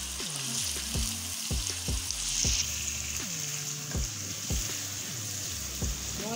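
Ginger garlic paste frying in a pan for chicken gravy: a steady, moderately close sizzle with rhythmic scraping knocks from stirring repeated roughly every half second throughout.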